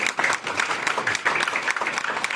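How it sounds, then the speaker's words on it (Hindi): An audience at a network marketing seminar claps loudly and continuously, a dense, steady wave of applause from many hands. "अपने लिए एक बार जोरदार तालियां बजाओ भाई"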